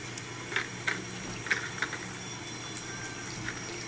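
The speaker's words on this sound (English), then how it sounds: "Some hot water to this. You need really hot water." Hot water poured into a liver of sulfur solution over a sterling silver and peridot bracelet, a soft steady liquid flow with faint splashes and small clicks, close and continuous with no talking.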